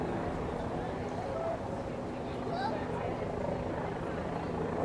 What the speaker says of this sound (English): What's going on with the helicopter?